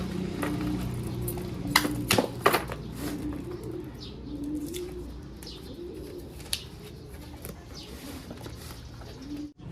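Soft, low pigeon cooing repeats through the clip over steady background noise, with a few sharp clatters and faint chirps.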